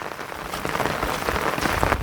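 Steady rain falling outdoors on a Konkan farm field, a dense continuous patter of drops on surfaces, fairly close and even throughout with no voices.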